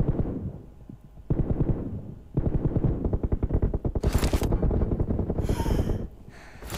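Rapid automatic gunfire in PUBG Mobile, several bursts of closely spaced shots separated by short pauses, loud and near, with occasional sharper bright cracks and no talk over it.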